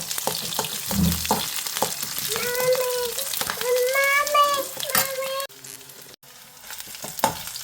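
Ginger and garlic with green chilli and curry leaves fry in oil for a mango-ginger pickle, giving a steady close sizzle with stirring scrapes; a voice talks over it, and the hiss briefly drops out near the end.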